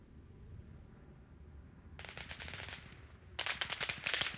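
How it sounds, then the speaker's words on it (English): Automatic gunfire in the military video game Arma during a server-versus-server match: two rapid bursts of sharp, crackling shots, the second louder and closer, over a low background rumble. "Who's shooting here?"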